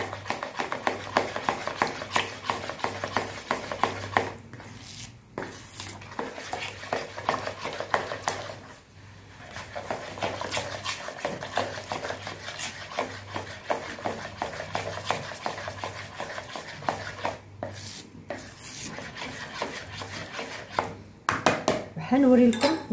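Icing sugar is stirred into other ingredients in a bowl, with continuous scraping and clinking of a spoon against the bowl, steady and close, pausing briefly a few times.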